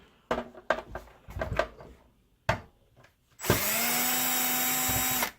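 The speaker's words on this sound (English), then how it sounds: "And then I just use my screw gun." A power screw gun fitted with a 4.5mm security bit, removing screws from a Nintendo N64 console: several handling clicks and knocks, then a sustained whirring motor buzz close by for about two seconds.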